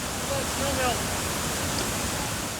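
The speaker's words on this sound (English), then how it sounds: "The river is swollen and agitated." Swollen mountain river rushing after heavy rain, a dense, steady broadband roar of churning water, close and unbroken, with a faint voice briefly underneath.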